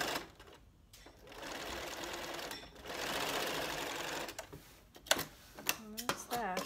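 A sewing machine stitching a join in bench seat upholstery, a fast, steady whirring chatter heard close, stopping briefly between bursts, with light handling noises near the end.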